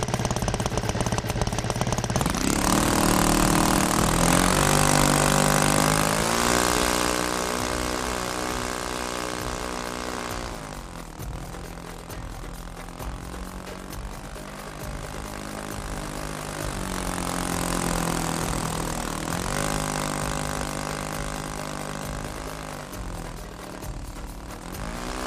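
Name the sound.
RC plane GB flying in RealFlight Simulator video game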